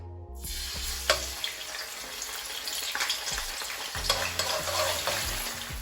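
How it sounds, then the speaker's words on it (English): Chopped garlic sizzles in a hot pot for a close, bright crackle with a few sharp clinks and a stirring rustle, over low rhythmic background music and no talking. "my pot is hot and now I'm going in with some of my chopped garlic"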